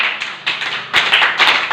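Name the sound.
loud hand clapping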